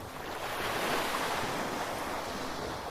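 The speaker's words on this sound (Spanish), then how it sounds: "deja que el sonido del mar acompañe esa relajación" Ocean waves wash onto the shore in a steady, soft, continuous rush of surf, with no voices over it.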